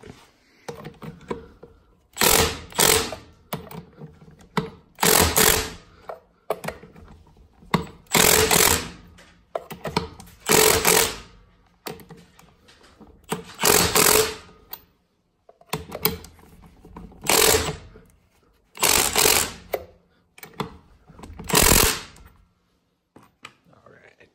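Cordless stubby impact wrench tightening bolts, firing in repeated loud rattling bursts of a second or so with brief pauses between them, close up.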